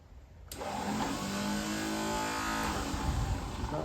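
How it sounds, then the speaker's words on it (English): A 1949 Ford F-1 starter motor spins up with the Bendix drive failing to engage, a steady mid-pitched whirring drone that starts abruptly and holds loud for several seconds without the engine catching. "the Bendix isn't kicking in, so the starter's spinning up"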